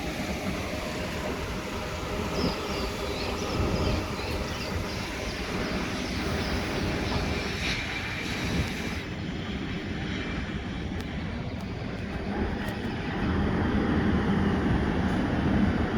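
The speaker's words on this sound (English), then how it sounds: "There's airplanes taking off behind me" Airplanes taking off at an airport make a continuous broad roar of jet engines that holds steady for the whole stretch and swells slightly near the end, heard from a distance with no talking.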